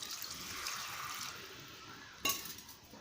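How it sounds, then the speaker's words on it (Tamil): Water is poured into chicken kulambu gravy with a soft, rushing splash, followed by a sharp clink of a vessel against the pot. "தண்ணி ஊற்றிடலாம்."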